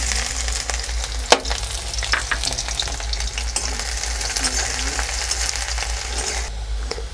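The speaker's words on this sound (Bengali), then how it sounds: "পেঁয়াজটা ভেজে নিয়েছি" Chopped onion fries in hot oil in a pan, a steady close sizzle with scraping stirs throughout and one sharp clack of a spoon, without talk.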